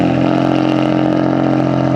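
A BMW M4 on a cold start idles with a raspy, steady mid-pitched engine drone, loud and close with no voices over it.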